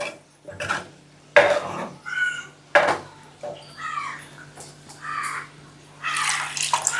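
Milk is poured into a pot of simmering prawn curry, giving intermittent splashing and liquid bursts with a few clinks of the pot, close by and moderately loud, with no talking.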